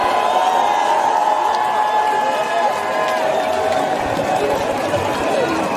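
A large outdoor political rally crowd greets Jean-Luc Mélenchon's arrival on the podium, a steady dense roar of applause and cheering that holds at an even level throughout, with voices mixed into the wash.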